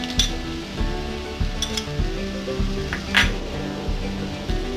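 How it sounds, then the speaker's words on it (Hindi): Peanuts tossed into a pan with onion and green chilli for murmura chivda, a low sizzle under a run of clinks, scrapes and spoon-on-pan knocks. "इसमें अब हम मूंगफली डालेंगे।"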